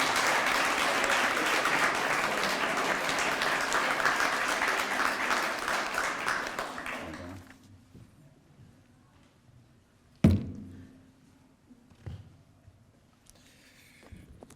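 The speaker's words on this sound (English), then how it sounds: "please make him feel right at home with a round of applause" Award ceremony audience applause for children's book awards, a loud sustained wash of clapping for about seven seconds that fades to quiet, followed by a few isolated thumps and faint room noise.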